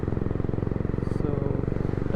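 Honda motorcycle fitted with a loud Red Rooster aftermarket exhaust and FuelX, idling after a cold start, a steady rapid rumbling thump close by, with talk over it.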